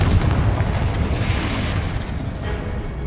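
In the video game Hogwarts Legacy, a Confringo blasting spell explodes with a heavy, rumbling boom that stays loud and dense throughout, rolling with low-end weight before easing slightly.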